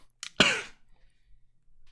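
A single short, forced cough imitated by a voice, sharp and close, preceded by a quick intake of breath, then quiet.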